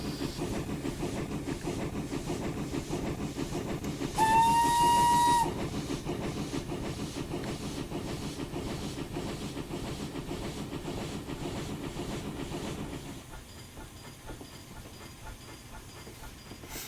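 A Hudswell Clark contractors tank steam locomotive in Train Simulator 2021 rumbles and chuffs steadily, lets out a short, loud whistle blast early on, then quietens as the running sound drops away near the end.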